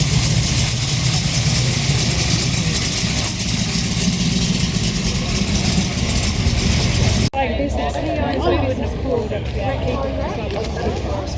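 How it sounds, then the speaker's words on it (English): Plymouth Cuda rolling out at a busy outdoor car meet, its engine a steady loud rumble throughout with crowd chatter mixed in, the tone shifting abruptly partway as it moves off. "As this Cuda rolls out."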